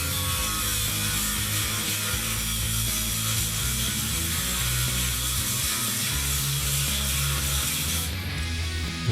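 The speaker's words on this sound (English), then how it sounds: "Cutting through the old welds can take a little bit of effort." A power saw cuts through old welds on a Honda CB750 cafe racer frame, a loud continuous grinding whine held steadily for several seconds close by.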